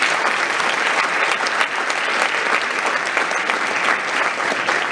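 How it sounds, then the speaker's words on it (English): Sustained audience applause at a high school academic awards night, dense and even clapping from a crowd filling the room at a steady level with no talk. "So a gigantic round of applause for Kim McCann."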